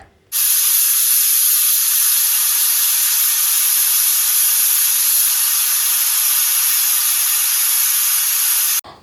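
A pressure cooker holding sprouted horse gram vents a loud, continuous high hiss of steam for about eight seconds, starting and stopping abruptly, close by with no voices.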